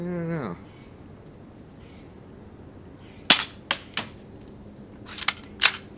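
Crosman PSM45 air pistol fired at cans on a target at 15 and 25 yards, giving a few sharp, loud cracks spaced apart with quieter background between them.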